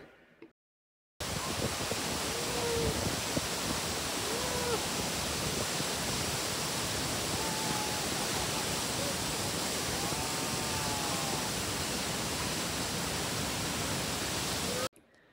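Hogenakkal waterfall pours in a loud, steady rush of water that fills the whole stretch, broadband and unbroken, with a brief quiet gap at the start.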